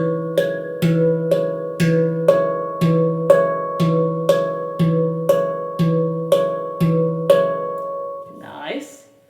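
Handpan repeating a single melody note in a steady pulse while the other hand fills the gaps between strikes with softer taps, bright ringing metallic tones, ending with a brief rustle.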